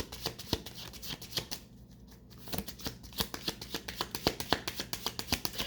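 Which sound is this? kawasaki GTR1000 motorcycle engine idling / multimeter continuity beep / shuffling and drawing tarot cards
shuffling and drawing tarot cards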